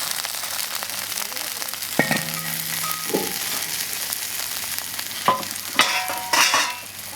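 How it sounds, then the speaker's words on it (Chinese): Pieces of fried wild lake fish go back into a wok with ginger and water. A steady sizzle runs under sharp metal scrapes and clanks from stirring, and louder bursts come near the end. "再把前面炸好的一起下锅。"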